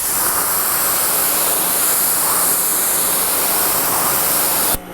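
A continuous loud hiss of water spraying onto ceramic-coated car paint, steady and close for several seconds before it cuts off abruptly.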